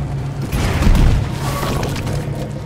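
Explosives detonating in the video game Deep Rock Galactic, a deep booming blast that swells near the start and then settles into a sustained low rumble with faint crackling debris.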